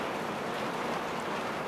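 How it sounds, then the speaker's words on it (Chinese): Heavy rain pours in a dense, even hiss, close and continuous with no gaps, falling hard enough to leak indoors. "到处都在漏雨，这么大的雨"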